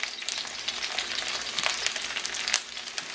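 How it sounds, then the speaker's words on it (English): Onion and garlic go into a hot pot for Caribbean pepper pork, producing a bright, crackling sizzle with scattered spits and pops, close and steady with no talking. "We're going to go in with the onion, followed by the garlic."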